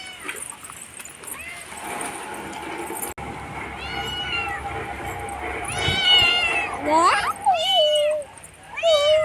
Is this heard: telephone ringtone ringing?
no